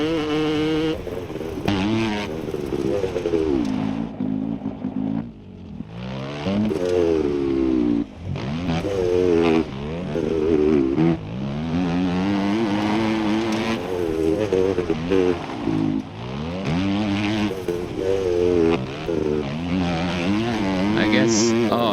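Motorcycle engine in the video game Laika, a continuous loud revving drone that rises and falls in pitch as the bike accelerates and slows, present for the whole stretch.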